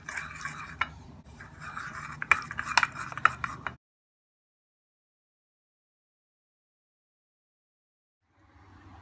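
Steady scraping swirl of a spoon stirring a thick yogurt face mask mixture in a bowl, close and fairly loud for a few seconds, then silence with a faint return near the end.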